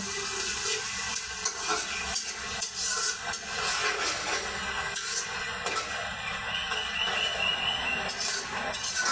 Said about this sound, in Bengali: এখন আমি এগুলো একদম লাল লাল করে ভেজে নেব